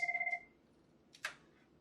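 A VoIP desk phone rings out while calling a room, a short warbling electronic ring at the start that fades, then a faint click afterward in a quiet room.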